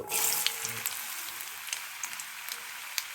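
Vegetables drop into hot oil tempered with cumin seeds, a bright frying hiss with scattered pops and crackles, steady and close, with no talking over it.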